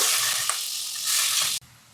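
Loud, steady hissing and sizzling of prawns frying in hot oil, close up, cutting off abruptly near the end.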